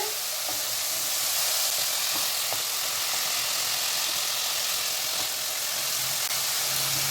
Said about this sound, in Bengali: দেখুন মশলাটা কিন্তু কষে তেল বেরিয়ে আসছে।